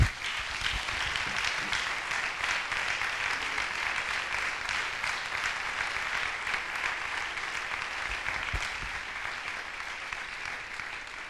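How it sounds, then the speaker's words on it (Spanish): A church congregation applauds in a warm hall, many hands clapping in a sustained, even roar that stays moderately loud for over ten seconds before easing slightly toward the end. "Se merece un aplauso el Señor."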